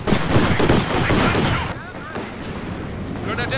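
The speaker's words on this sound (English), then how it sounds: "Taking fire!" Heavy infantry gunfire on a Company of Heroes 2 multiplayer battlefield, rapid overlapping bursts and booming shots loud at first, then easing into a more distant rattle with scattered battle noise.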